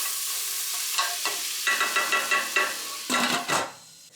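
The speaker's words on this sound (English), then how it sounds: "Sausage, bacon and onions." Sausage, bacon and onions fry in a pot, a steady close sizzle with a spoon scraping and stirring in rhythmic strokes and a few clanks against the pot.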